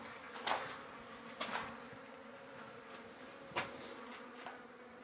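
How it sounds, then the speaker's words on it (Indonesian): Flies buzz inside a damp old gold mine at Whroo, Victoria, Australia. Several close buzzing passes swell and fade over a faint, steady hum in an otherwise quiet space. "Jadi kalau masuk sini boleh dengar tuh lalat punya sound."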